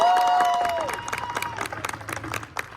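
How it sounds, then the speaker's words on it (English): A convention hall audience at a Power Rangers 30th anniversary panel bursts into applause for the cast, scattered claps and cheers swelling and then thinning out, following a fading amplified tone. "another round of applause for our Rangers that are here right now"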